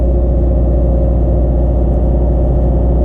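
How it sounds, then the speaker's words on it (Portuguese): A truck approaching a hydraulic excavator loading site gives off a loud, steady low engine drone that fills the whole stretch without pause, heavy and close, with no voices over it. "O caminhão já tá vindo aí"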